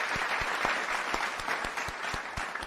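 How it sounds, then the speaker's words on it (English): Applause from an audience, steady clapping throughout with sharper individual claps standing out near the microphone. "This applause for you guys."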